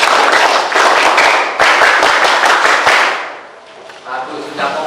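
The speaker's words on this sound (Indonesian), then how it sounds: "tepuk pramuka satu kali" A group performs a single scout clap, a rapid burst of many hands striking in a patterned rhythm at close range for about three seconds, then fading to quieter rustle and faint voices.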